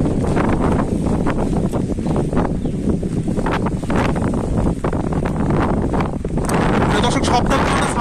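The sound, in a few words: strong wind of Cyclone Remal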